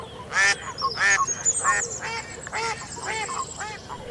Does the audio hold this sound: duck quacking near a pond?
yes